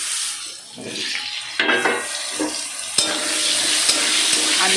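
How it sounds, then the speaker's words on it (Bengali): Potatoes tumble into hot oil already seasoned with white cumin seeds, setting off a loud, close sizzle that swells and keeps hissing, with stirring clinks and scrapes against the pan. "এবার আমি আলুগুলো দিয়ে দিলাম।"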